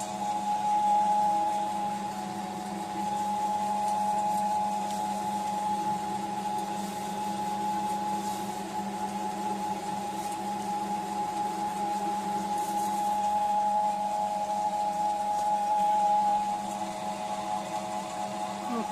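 A feed pellet mill making pellets for rabbits runs continuously under load with a steady droning hum and whine, unchanging in pitch and loudness throughout, with faint mechanical rattling underneath.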